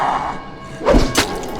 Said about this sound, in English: when you throw it towards an enemy, it is going to explode when it gets stuck in the zombie